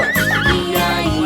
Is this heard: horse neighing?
yes